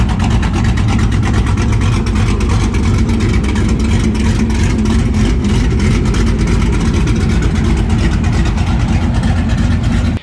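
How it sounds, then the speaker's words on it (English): A Ford Mustang engine fitted with aftermarket camshafts idles with a loud, choppy exhaust rumble that holds steady and close for the whole stretch, with no voices over it. "Aftermarket camshafts really bring that old school muscle rumble and make your Mustang a lot more meaner, a lot more aggressive"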